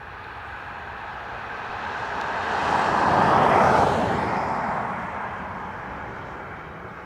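An SAS airliner from Copenhagen rolls along the runway at Dublin Airport, its jet engine roar swelling from a distance to a loud peak mid-pass and then fading away again.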